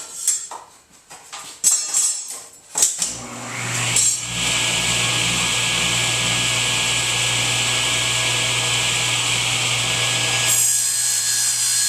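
A rocket body tube is being cut to remove a narrow strip: a few scrapes and knocks lead into a steady, loud power-tool saw running continuously close by for most of the stretch.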